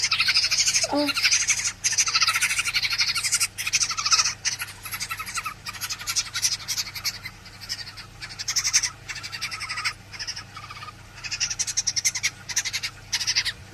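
A rescued baby bird, eyes not yet open, calls with loud, insistent squawking chirps that repeat through the whole stretch over a steady rain-storm hiss.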